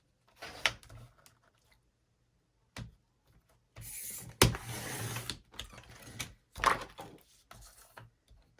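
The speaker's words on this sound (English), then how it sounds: "The blade on my trimmer is getting a little dull." A paper trimmer with a slightly dull blade slices through paper, giving a few separate clunks and sliding scrapes spaced out between near-silent pauses.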